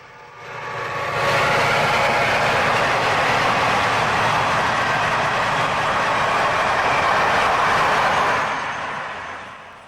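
Florida East Coast Railway southbound freight train number 115, carrying containers, passes beside Route 1 as a steady, loud rumble of wheels and rail that swells in after the first second and holds, then eases slightly at the end.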